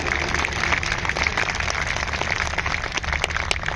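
Audience at an outdoor political rally in Nagpur claps continuously and fairly loudly throughout, a dense steady patter of many hands with a low rumble of crowd noise beneath.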